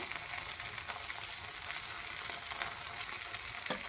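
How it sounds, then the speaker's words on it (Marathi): Soaked sabudana (tapioca pearls) roast in a hot pan for sabudana khichadi, giving a steady, close hiss and crackle that runs unbroken throughout with no voices. "हे भिजलेले साबुदाणे आपण भाजूया"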